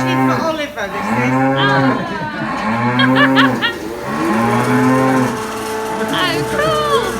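Cows on a farm moo loudly and close by, one long, drawn-out low call after another in a repeating series with short pauses between.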